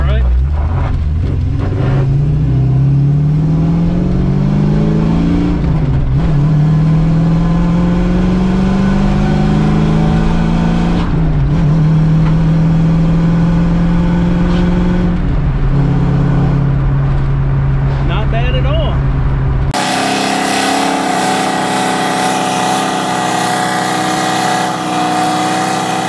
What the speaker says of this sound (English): See if maybe she'll do a burnout.